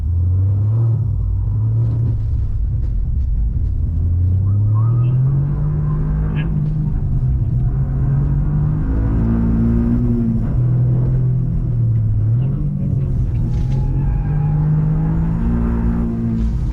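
A Toyota GR Yaris engine rumbles loudly and continuously while driving and braking, its pitch rising and falling with speed, with people talking faintly underneath.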